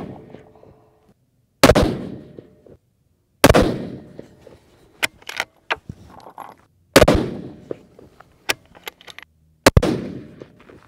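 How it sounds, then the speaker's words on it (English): Tikka T3x Lite rifle in 6.5 Creedmoor firing hand loads at a 200-yard range: four loud, sharp shots spaced a couple of seconds apart, each with a booming decay, plus smaller clicks and clatter from the action between shots. "We're going to shoot some of my hand loads, but these hand loads are not tuned to this gun."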